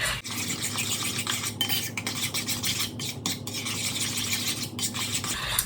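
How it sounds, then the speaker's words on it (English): Ricotta and cottage cheese filling being mixed in a bowl, a continuous close scraping and stirring of utensil against the bowl with soft wet swishes and brief pauses, with no talking. "continue to mix this up"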